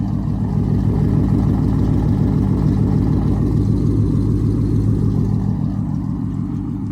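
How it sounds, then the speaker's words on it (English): A catless, straight-piped Dodge Charger SRT8 with no muffler idles loudly and steadily up close, its deep rumble holding a constant throb with slight swells as it revs. "I'm catless, I'm straight pipe, I ain't got no muffler."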